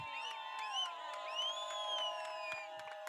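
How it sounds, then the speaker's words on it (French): Wedding guests cheer and whoop in a crowd, with bright rising shouts and ululating calls over a continuous, fairly even din of celebration. "Applaudissez encore très fort."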